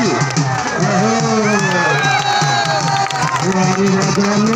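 A loud crowd cheers, whoops and claps continuously at a village wrestling dangal, with a voice calling out over the dense noise throughout.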